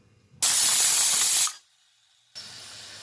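A pressure cooker making kidney and liver biryani on a stove lets out a loud, close, steady hiss of steam for about a second, stops abruptly, and a fainter hiss follows after a short pause, with no talking.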